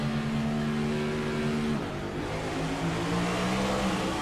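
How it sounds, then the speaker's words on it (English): Next-gen stock race car at Atlanta pulling hard through the gears, the engine note droning steadily, then rising again as the tires spin in second; loud, close onboard sound with no talk. "And spun the tires in second."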